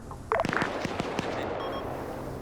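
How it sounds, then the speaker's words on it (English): An airstrike in a military video game lands as a cluster of sharp blasts and cracks in quick succession, fairly near, fading into a low rumbling wash. "JTAC just called in an airstrike"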